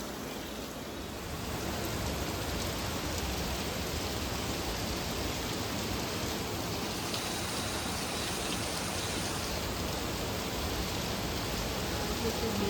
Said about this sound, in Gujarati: આજે જોરદાર વરસાદ પડી રહ્યો છે બોપલ ગામમાં